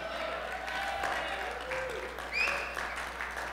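An audience claps steadily throughout a talk on community, the applause dense and moderately close, with a brief louder swell near the end.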